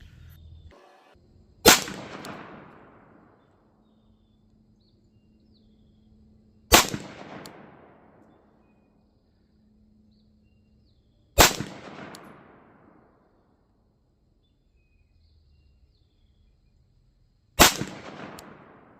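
Four sharp, loud pistol shots from a PSA Dagger fitted with a red dot sight, fired at a 25-yard target, come several seconds apart, each a crisp crack with a short decaying echo and quiet between them.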